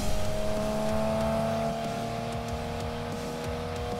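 A 2016 Porsche 991 GT3 RS drives on the road, its engine droning steadily and loudly from inside the car, with the tone shifting as it changes speed and road noise underneath.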